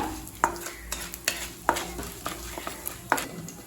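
Urad dal and chana dal dry-roasting in a pan for kara chutney, repeated sharp scrapes and knocks of a spatula stirring the lentils over a soft sizzle, close and distinct.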